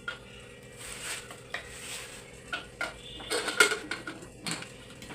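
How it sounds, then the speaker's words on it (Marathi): A metal pressure cooker lid is handled and fitted into place, giving scattered clinks, taps and scrapes of metal on metal, close by and irregular, with kitchen sizzling faintly underneath. "त्याच्यानंतर कुकर आपण झाकण लावूया"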